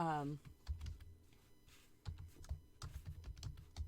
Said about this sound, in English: I can talk a little bit while I'm typing names